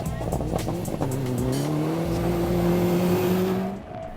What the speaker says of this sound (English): Returning to rallying, Sami Mahmood with co-driver Karina Herpela in a Mitsubishi Evo 9